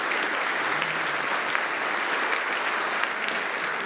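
Steady applause from a crowd fills the whole stretch, dense and even in loudness without pauses or voices standing out.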